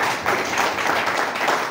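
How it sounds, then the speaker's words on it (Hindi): Audience applause from a crowd at a motivational business speech event, steady dense clapping filling the whole short stretch at fairly loud level, with no voices over it. "एक बार मोहित सर के लिए जोरदार तालियां।"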